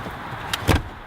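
A brief mechanical clunk and thump as a 2017 Seat Toledo rear seat lever is pulled and the seat drops forward, one short click followed by a heavier knock, close by in a quiet space.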